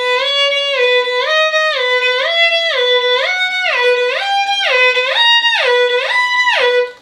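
A violin shifting exercise: a single bowed note glides up and down repeatedly as the first finger slides along the string, each slide reaching a little further, in an even rhythm with no voice.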